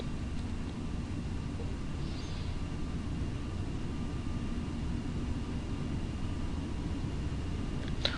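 Steady broadband roar of a Ryanair Boeing 737-800 cabin on final approach to runway 25 at Belfast-Aldergrove, engine and airflow noise constant and unbroken throughout with no voices.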